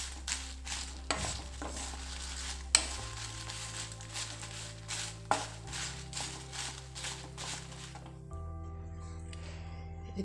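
Sardine fish curry ingredients frying in a pan, made in a desi-style Tulu recipe: quiet sizzling with repeated soft scrapes and taps of a spoon stirring at a steady pace, close by.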